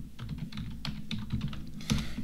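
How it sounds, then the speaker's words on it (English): Brisk, uneven typing on a computer keyboard, a steady patter of close key clicks with a few heavier strokes, no voices. "I'm gonna type in frustration."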